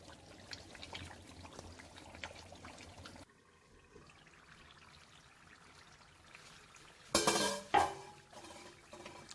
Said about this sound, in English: So add your fried meat to it and stir it.